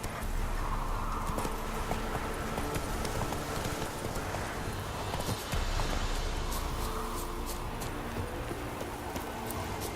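A horse gallops with steady, rhythmic hoofbeats in The Witcher 3 video game, close and continuous throughout with no talking.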